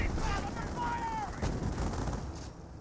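Gunfire booms from an anti-tank gun in Company of Heroes, a World War II strategy game, a few sharp reports mixed with other battle effects under fast game commentary.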